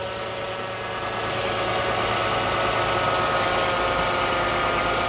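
2015 Toyota Sienna 3.5 V6 engine idling after a catalytic converter replacement, a steady, fairly quiet hum with a low even drone close by.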